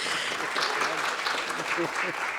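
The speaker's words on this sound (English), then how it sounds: "Please give her a fantastic round of applause." Audience applause at a business workshop after a company CEO is introduced, a steady dense patter of many hands throughout, with a voice speaking over the clapping.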